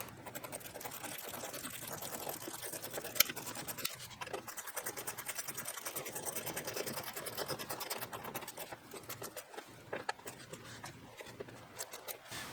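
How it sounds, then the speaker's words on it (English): A Phillips head driver tightens the bottom screws of a Rokblokz mud flap on a 2022+ Chevrolet Silverado 1500 ZR2, making a fast, even run of small ratcheting clicks and scrapes up close, with a few sharper ticks. "now we're going to grab our Phillips head drive and we're going to tighten the bottom screws here"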